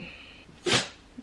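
A dog gives a single sharp sneeze, close and brief, after a moment of quiet, followed by a soft snuffle.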